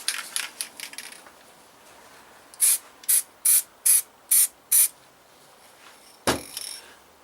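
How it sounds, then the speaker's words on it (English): Spray painting a fine dust coat onto small Yamaha TDM850 motorcycle parts: several quick hissing aerosol bursts, then a run of six short evenly spaced sprays, and one final hiss, close and clear in a quiet room. "So I'm going to start with the first coat, which is just a dust coat, just a very fine covering"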